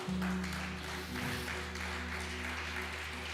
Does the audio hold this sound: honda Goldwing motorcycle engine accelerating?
no